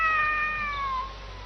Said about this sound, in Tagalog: Meow, nasan ka ba, pusa ka?